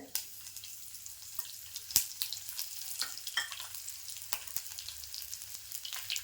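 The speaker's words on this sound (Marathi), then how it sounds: "मोहरी तडतडली की आपल्याला लसूण टाकायची." Four or five crushed garlic cloves sizzle in hot oil with crackling mustard seeds and cumin, a tempering for Malvani tomato curry; soft frying hiss with frequent sharp pops close by.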